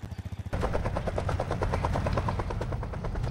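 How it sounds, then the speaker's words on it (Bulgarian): A Roblox helicopter flies overhead, its rotor chopping in a steady, rapid beat that suddenly swells louder after a brief quieter start and stays loud and close. "Хеликоптера летна."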